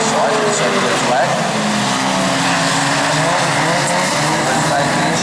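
Euro Rod race cars thunder around the oval at Arena Essex, engines roaring together with squealing, skidding tires. A commentator talks over the continuous, loud racing noise.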